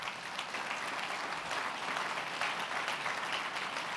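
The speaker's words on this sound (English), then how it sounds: "If we could have a round of applause for them" Steady applause from an opening ceremony crowd, a dense patter of many hands clapping at an even level throughout, without voices.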